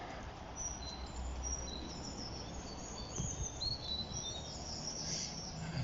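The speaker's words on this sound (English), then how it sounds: "Birds are trying to drown it out, but there's no resisting it." Birds chirping and twittering near a motorway at Ox Gap in Prestwich, scattered bright calls over a constant low rumble of distant traffic, with a few sharper tweets toward the end.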